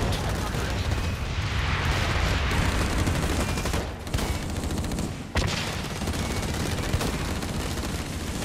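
Air strike explosions and dense gunfire roar through a Blacklight Retribution match, a continuous loud barrage of blasts and rapid shots with heavy booms, and a player talks over it.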